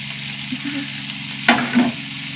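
Onion, ginger, garlic and green chillies sautéing in a pan for a gravy, giving a steady close sizzle under a low hum, with a sharper scrape of stirring around the middle.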